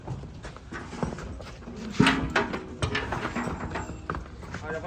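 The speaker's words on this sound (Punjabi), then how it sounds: "ਆਪਣੇ ਇੰਦਰ ਘੋੜੇ ਦੀ ਇਹਦੀ ਉਮਰ 7 ਮਹੀਨੇ ਆ" Hooves clop irregularly on hard ground nearby as a seven-month-old Marwari horse shifts and steps, with background noise and occasional voices.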